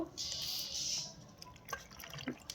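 Water poured onto cut tomatoes in a pressure cooker: a brief hissing pour up front, then a few soft drips and splashes, close and quiet.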